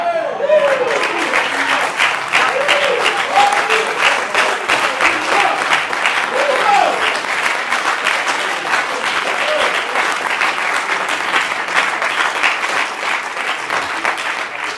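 A church congregation claps hands in loud, sustained applause, a dense, even patter filling the whole stretch, with voices calling out faintly beneath it early on.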